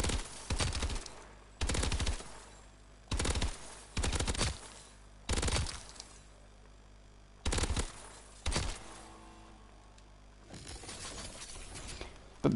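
Blunderbuss gunfire in a PS4 video game, about eight heavy, booming blasts spaced one to two seconds apart, loud and close, with game background noise between shots.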